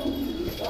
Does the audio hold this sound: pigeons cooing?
yes